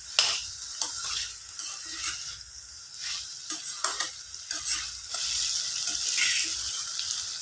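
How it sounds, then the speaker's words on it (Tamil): Potatoes being stirred with turmeric in a hot pan, with irregular scraping and stirring strokes over a soft sizzle that swells louder toward the end. "மஞ்சத்தூள் சேர்த்து நல்லா கலந்து விட்டுக்கிறேன்"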